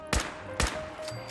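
Two sharp gunshots in Fallout 4 about half a second apart over a steady electronic game hum, punchy and close.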